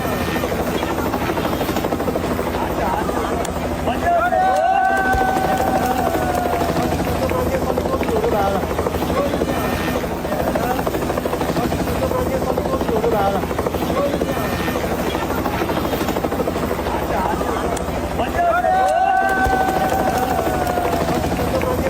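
A rescue helicopter hovering during flash flooding in Nepal, its loud steady rotor thrum and engine whine continuous throughout, with crowd noise and voices mixed in beneath.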